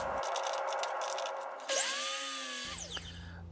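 A power sander whirs steadily on segmented Osage orange wood pieces, then its pitch shifts as the motor spins down and the note glides away, all fairly close.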